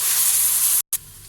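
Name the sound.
garlic ginger paste frying in pan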